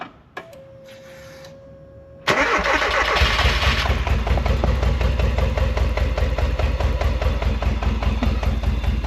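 A Ford Fiesta engine cranks over: a brief whine and click, then a steady rapid chugging of the starter turning the engine, loud and continuous for several seconds.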